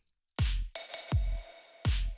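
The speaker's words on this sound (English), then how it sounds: "A long reverb going on," Drums, a kick and snare, each hit followed by a long, wide reverb tail that fills the space between four hits, moderately quiet and alone.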